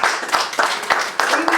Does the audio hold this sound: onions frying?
no